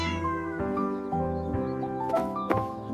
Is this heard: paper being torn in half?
no